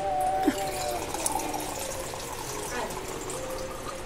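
An RO water purifier runs and fills in a home kitchen, giving a faint, steady trickle and hum of water with a brief whine at the start, while someone talks quietly nearby.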